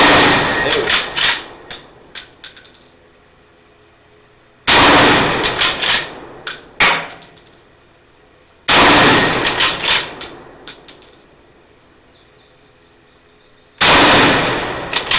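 Mosin Nagant M44 rifle fired outdoors at a rope target, four loud, sharp reports spaced several seconds apart, each followed by a ringing echo and short clanking.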